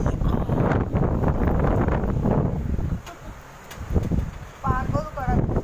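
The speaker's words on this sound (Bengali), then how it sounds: "একদম ঝোড়ো হাওয়া।" Stormy wind during heavy rain gusts and buffets the microphone in a loud, continuous rush with a brief lull midway, and a few short chirps come near the end.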